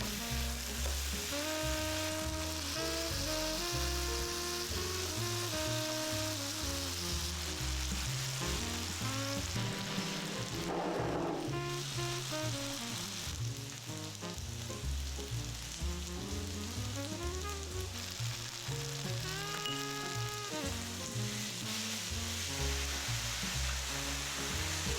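Mini pineapples caramelize with sugar and a pinch of salt in a pan, a steady, dense sizzle that runs throughout with light bubbling, while tonal background music plays underneath.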